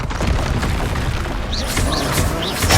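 Descendo spell slamming an enemy to the ground in the video game Hogwarts Legacy, a dense boomy impact amid continuous combat effects, with brief whooshing swells late and a heavier thud at the end.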